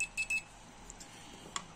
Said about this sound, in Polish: Mogę przepikać multimetr